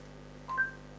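Through a Sunweyer wireless Android Auto adapter, the voice assistant plays a brief, soft electronic tone when a WhatsApp message is requested, heard alone over a low steady hum.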